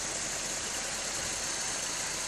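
A 1974 Rolls-Royce Silver Shadow LWB sedan idling right after starting, a smooth, steady engine hum that holds even throughout with no revving and no voices.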